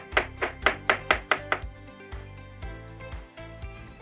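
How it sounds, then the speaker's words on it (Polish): Knife chopping one or two apples into small cubes on a board, a rapid run of crisp, close, evenly spaced chops that then loosens into softer, scattered cuts and light kitchen knocks. "Jedno lub dwa jabłka, w zależności od gustu i od wielkości jabłek, kroimy w małą kosteczkę."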